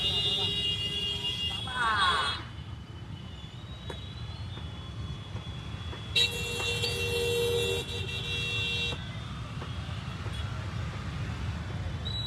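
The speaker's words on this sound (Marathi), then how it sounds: "गाड्यांचं मला ट्रॉफिक जास्ती आहे." Busy road traffic rumbles constantly, with a short vehicle horn blast early on and a longer, sustained horn tone a few seconds later, while people talk over the noise.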